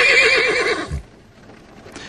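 A horse gives a loud, quavering whinny for under a second, followed by a soft thud and a quiet pause.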